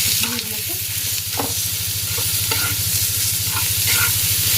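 Tiny shrimp mixed with salt and turmeric in a frying pan, loud close sizzling with a rapid rhythmic stirring pulse running throughout.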